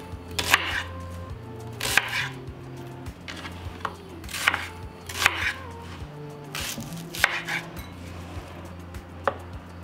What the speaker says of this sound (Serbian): Iseći ću luk na komade jer ću ga stavljati u secka